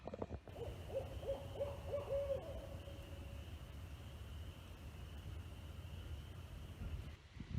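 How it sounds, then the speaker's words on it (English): A barred owl hoots a quick rhythmic series of about six calls at night, followed by steady wind-like background hiss. "That call was from a barred owl."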